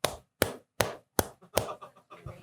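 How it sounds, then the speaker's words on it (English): Cupped hands clap in a cheerleader style, producing hollow, dull pops: five fairly evenly spaced close claps, followed by softer trailing sounds. "They got the cheerleader clap. They do a weird cup of their hands."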